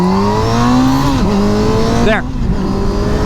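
A motorcycle accelerates hard from standstill toward 60 mph, its engine note climbing steeply, dipping at a gear change and then surging again close by. A voice speaks briefly.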